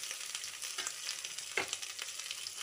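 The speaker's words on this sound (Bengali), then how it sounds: "পেঁয়াজ কুচিগুলো দিয়ে আবারও আমি ভালো করে ভেজে নেব" Chopped onions sizzle in hot oil in a pan with fried potatoes and pointed gourd, a steady close crackle broken by a few scraping stirs, with no talking.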